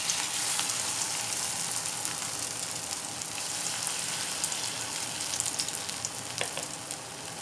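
Moong dal bhajiya batter, dropped a spoonful at a time into hot oil, sizzles steadily and densely up close, with faint crackles and pops scattered through.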